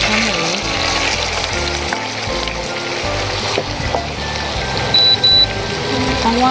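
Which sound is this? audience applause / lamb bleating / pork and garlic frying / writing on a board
pork and garlic frying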